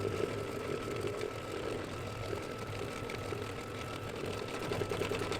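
A sewing machine quilting cross hatching into the background of a small mug rug, running as a steady, continuous mechanical whir and hum at even loudness throughout.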